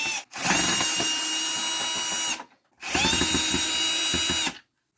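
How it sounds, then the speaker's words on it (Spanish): Power drill backing screws out of the control board panel of a dryer that won't start, two sustained whirring runs of about two seconds each with a brief pause between, close and loud with no talking. "Ahora vamos a quitar los tornillos que fijan la placa propiamente"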